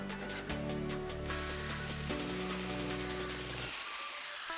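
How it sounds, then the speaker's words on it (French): A wood plane, likely powered, whirring loudly and steadily as it shaves across a roof truss timber, then winding down abruptly near the end. "un petit coup de rabot avant de passer à la découpe"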